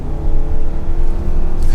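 A 2022 Hyundai Santa Fe XRT with the 2.5L engine and AWD pulls under throttle, heard from the cabin as a steady, loud, low engine hum with road rumble.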